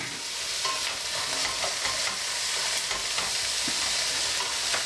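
Carrots and parsnips frying with onions in a pan and being stirred: a steady, close crackling sizzle with scraping stir sounds throughout, no voices.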